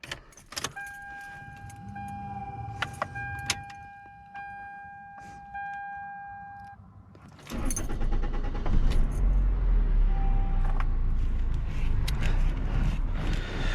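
A 2000 Toyota Corolla CE cranks and fires up after keys jangle and chimes sound in the cabin, then the engine settles into a loud, steady idle up close.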